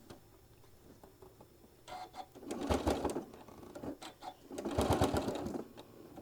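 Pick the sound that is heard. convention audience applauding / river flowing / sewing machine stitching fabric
sewing machine stitching fabric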